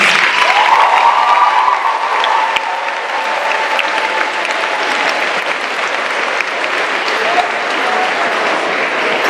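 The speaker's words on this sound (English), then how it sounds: "I want to applaud all of you." Audience at a youth Relay For Life fight back ceremony breaks into sustained applause, a dense, steady wash of many hands clapping with some light cheering, filling the whole stretch without a break.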